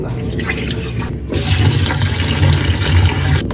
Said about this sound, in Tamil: இப்போ இது 3ஆவது தடவை அலசி எடுத்து விட்டுறலாம்